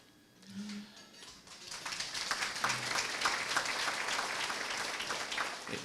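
Audience applause at a breast cancer summit swells after a quiet start, then holds as dense, even clapping from a seated crowd, with a brief voice early on.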